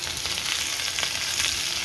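Carrots and celery sauté with garlic in a hot pan, giving a dense, steady sizzle and crackle throughout the short stretch, close and fairly loud, with no voices.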